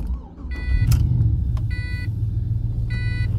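A modified Pontiac GTO about twenty years old, fitted with a catback exhaust and headers, starts and settles into a loud, deep, rumbling idle close by, with repeated electronic chime beeps over it.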